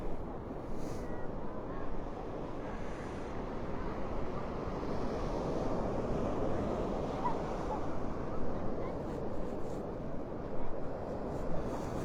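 Gulf surf rolls onto Vanderbilt Beach in North Naples, Florida, with an incoming tide: a continuous low wash of waves, moderately near, mixed with wind buffeting the microphone.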